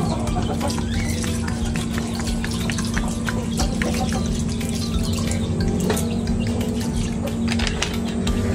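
Vinegar is poured into a cooking pot with whole peppercorns, salt and a little water at an outdoor backyard cooking setup, giving a continuous loud splashing pour with a steady hum beneath it.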